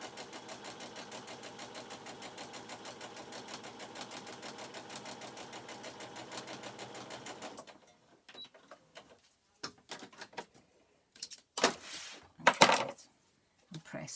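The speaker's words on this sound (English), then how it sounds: "Don't worry about finishing you stitch either end, because you'll be stitching over it." A sewing machine runs steadily for about seven and a half seconds while stitching a fabric face mask, then stops and gives way to quieter handling clatter and a few sharp knocks.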